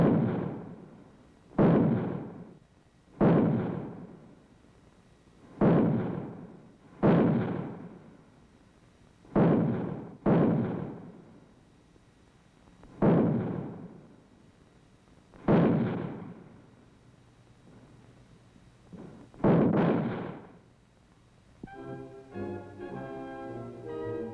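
Howitzer artillery rounds are fired at a target about seven miles away, a series of about nine loud, booming shots spaced a few seconds apart, each decaying quickly, before faint music comes in.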